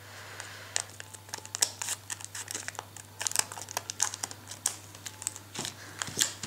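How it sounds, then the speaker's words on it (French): Japanese trading card booster packs are cut open with scissors, giving close crinkles of foil wrappers and sharp snips in irregular bursts against a quiet background, with no talking. "Je vais me munir de cette superbe paire de ciseaux pour ouvrir les boosters"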